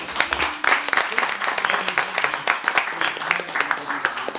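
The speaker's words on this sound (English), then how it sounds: "Y'all give them a round of applause." A room of attendees at a Lindale GOP candidates forum claps in a brisk, moderately loud burst of applause, the individual claps distinct within the steady patter.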